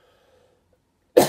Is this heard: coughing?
yes